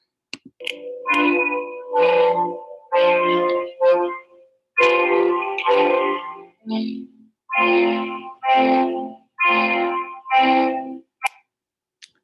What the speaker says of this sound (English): this is an example of a student who used a music piece